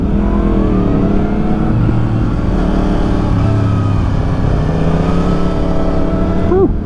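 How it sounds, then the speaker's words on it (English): Ducati Desert X motorcycle engine, loud and close, a sustained engine drone with rising and falling revs under steady road noise. "Got the Ducati Desert X. Whew, that thing sounds nice."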